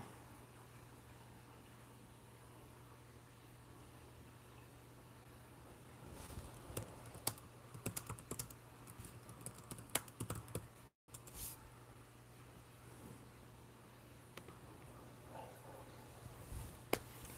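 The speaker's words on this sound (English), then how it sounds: "Let me just type a quick chat message here." Fingers type a quick chat message on a computer keyboard, producing faint scattered clicks that bunch into busier bursts midway and then thin out, over a low steady hum in a quiet room.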